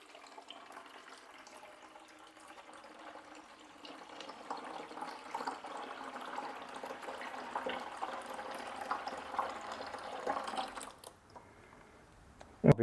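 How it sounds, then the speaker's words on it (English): Water poured from a pitcher into the tray of a Kobalt 24V tile saw, a faint trickling splash that builds gradually, then stops abruptly near the end, followed by a short clunk. "I've got a pitcher of water. I'm gonna go ahead and pour that"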